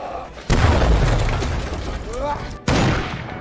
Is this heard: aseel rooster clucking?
no